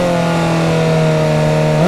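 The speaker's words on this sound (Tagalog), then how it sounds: "Kahit stock pipe lang to, ang lakas ng tunog niya." A Suzuki GSX S1000 GT motorcycle on its stock exhaust revs loud and close, a steady high engine drone holding pitch and then climbing sharply as the throttle opens at the end.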